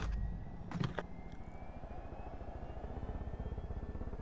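A helicopter in the video game Far Cry 5 gives a low, steady rhythmic rotor thump close by, with a couple of sharp bangs early on, running under quiet ambient game noise.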